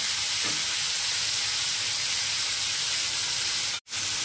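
Prawns frying in a pan until lightly browned give a steady, close hiss of sizzling oil that runs the whole time, broken near the end by a short dropout.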